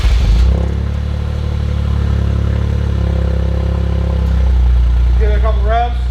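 A Toyota GR Corolla with its stock exhaust cold-starts up close: the engine cranks and catches, then holds a loud, steady, droning high idle for several seconds.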